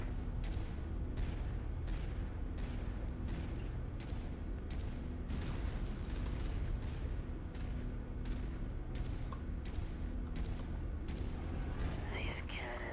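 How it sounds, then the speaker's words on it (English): MechWarrior 5 video game cannons fire over and over in a quick, uneven rhythm, each blast a dull, muffled boom over a low, constant background. "These cannons remind me of the blood pits."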